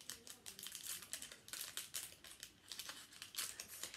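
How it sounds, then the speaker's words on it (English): A small plastic baggie crinkles and crackles in quick, irregular bursts as it is handled and opened up close, fairly faint, with no voices. "Let me take it out of the little baggie if I can."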